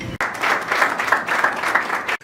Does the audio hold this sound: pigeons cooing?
no